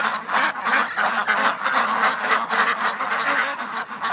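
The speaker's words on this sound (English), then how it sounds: "No, ducks, in you go." A group of ducks being herded into their pen at night in a yard lit by a small yard light, quacking and honking continuously in a loud, dense chorus close by.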